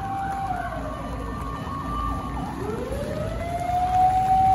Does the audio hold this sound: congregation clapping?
no